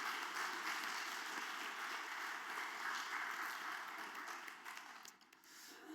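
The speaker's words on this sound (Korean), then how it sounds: "캄보디아에서 선교하고 계시는 김응수 선교사님, 조은혜 선교사님 교회 방문하셨는데 환영하고 축복하는 박수하도록 하겠습니다" A church congregation applauds to welcome visiting missionaries from Cambodia during a Sunday service, a soft, steady roomful of clapping heard at a distance that fades slightly toward the end.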